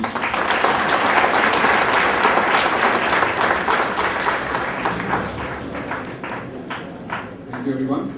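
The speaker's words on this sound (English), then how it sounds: "We have a louder round of applause," An audience at a college event at VJIT applauds loudly. Many hands clap in a dense, continuous roar that eases slightly toward the end, with faint voices mixed into the crowd noise.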